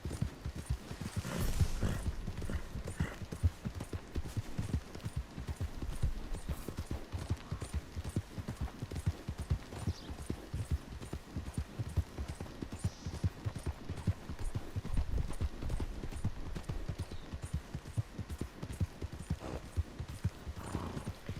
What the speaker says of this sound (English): I think I'm gonna make this horse my main horse for a little bit.